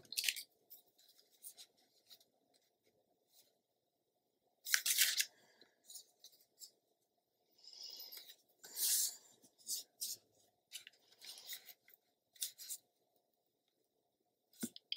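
Scissors trim paper for a Stamperia craft page, a series of close, crisp snips and paper rustles in irregular bursts with quiet gaps between.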